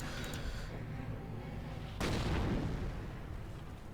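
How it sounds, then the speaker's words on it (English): Mortar rounds striking an enemy bunker in the Company of Heroes strategy game, a continuous rumble of battlefield fire broken by a sharp, loud impact burst partway through that decays into a lingering roar. "mortar team is engaging the bunker"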